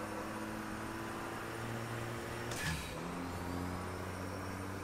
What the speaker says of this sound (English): Really loud blow-off valve.